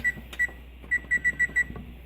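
A digital kitchen timer in a home kitchen beeps as buttons are pressed to set five minutes, with a series of short, sharp, close beeps in an uneven rhythm and no talk.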